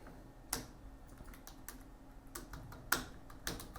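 Keys clatter on a computer keyboard as text is entered into a Power BI text box, quiet irregular taps with a few sharper louder strokes, close and without talk.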